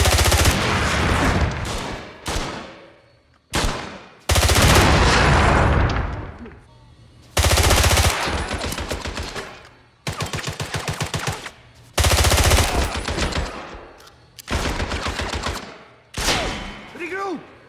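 Gunfire in the video game 007: Blood Stone, with repeated loud bursts of automatic fire and heavy shots, separated by brief pauses, some trailing into booming echoes.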